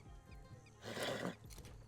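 A 10th anniversary horse mount in the video game The Lord of the Rings Online lets out a single loud, rising and falling whinny, framed by soft hoof sounds.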